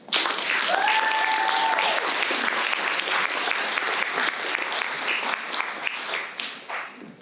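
An indoor audience at a high school academies symposium claps for certificate teachers, a dense round of applause that holds steady and then tapers off near the end, with a brief tonal squeak early on.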